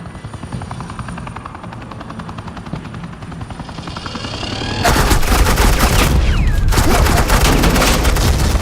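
In Batman The Telltale Series, a helicopter's chopping rotor thrums before loud suppressing gunfire erupts into sustained rapid automatic bursts over the rotor noise.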